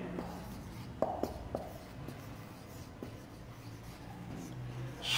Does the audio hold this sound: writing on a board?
yes